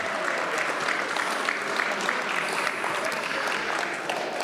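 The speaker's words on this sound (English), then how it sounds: "please give our sponsors a round of applause" An audience at a Broadway Theatre League of NEPA gala gives a sustained round of applause for the evening's sponsors, a dense, steady wash of clapping from many hands filling the room.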